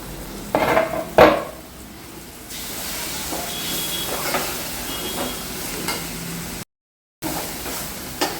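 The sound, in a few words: chopped eggplant added to pan and mixed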